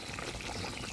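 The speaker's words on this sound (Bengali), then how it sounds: "এবার জল দিয়ে দিব।" Water poured into a pan of potatoes fried with spices for a Bengali village fish curry, a short steady splashing pour heard alone.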